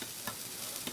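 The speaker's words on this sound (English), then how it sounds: "Look at that sizzle." A freshly grilled hot sub sizzles on a restaurant grill, a steady, faint hiss of frying with a few soft pops, continuous and close, with no talking.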